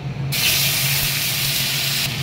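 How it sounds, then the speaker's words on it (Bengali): Chopped tomato and ginger go into hot tempering oil in a pan, setting off a sudden loud, steady sizzle that holds for a couple of seconds before easing off. "এবারে টমেটো আর আদাটা দিয়ে দিচ্ছি।"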